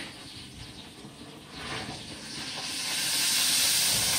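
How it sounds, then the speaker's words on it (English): Steady sizzling hiss from meat in a hot pan, growing louder and brighter toward the end, close up with no talking. "it's sizzling. It's sizzling."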